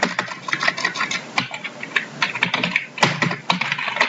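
Quick, close clatter of computer keyboard keys as a Linux terminal command is entered, a dense run of crisp keystrokes with no speech.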